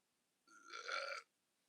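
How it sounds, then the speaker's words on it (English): A single short burp after drinking a lot of soda, rising and ending within under a second, close and fairly quiet against near silence. "I got a burp drinking a lot of soda"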